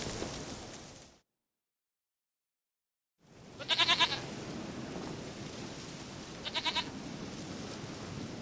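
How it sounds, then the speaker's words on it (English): Two short goat bleats in a PS4 game, a brief loud cry near the start and a second one a few seconds later, over a steady rain-like ambient wash, with a silent gap early on. "Goat of mine, dearest,"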